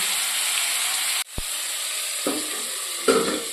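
Potatoes frying in a pan, a loud continuous sizzle with a sudden brief dip, then several bursts of stirring and scraping over the hiss.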